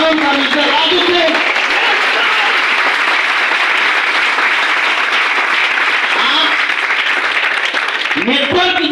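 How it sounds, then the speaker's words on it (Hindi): An audience at a business meeting breaks into loud, sustained applause for Mr. Raju Singh, dense clapping that fills the room, with a voice heard over it at the start and end. "एक बार उसके लिए तो जरूर ताली बजाना चाहिए"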